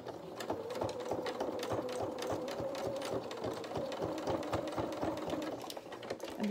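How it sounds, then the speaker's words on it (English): A sewing machine stitches fabric for a small doll's sailor dress, its fast, even mechanical chatter running continuously at close range and fairly quietly. "if you just very carefully put them under the sewing machine, you should be able to just put a couple of stitches in and then reverse back"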